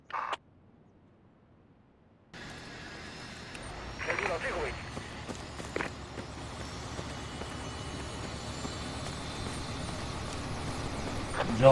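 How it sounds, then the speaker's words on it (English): A helicopter in the military video game Project Reality hums steadily and close by. The hum starts after a brief silence and grows slightly louder, while people talk over it. "My squad is taking the chopper."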